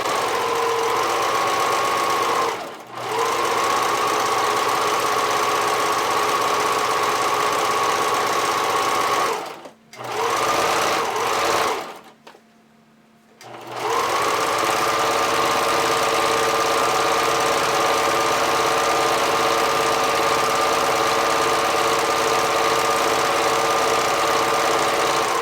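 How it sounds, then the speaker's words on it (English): A sewing machine runs a zigzag stitch to hold elastic in place on the waistline of hipster panties, a loud steady motor hum broken by brief stops and restarts. "using a zigzag stitch, I'm just stitching that in place"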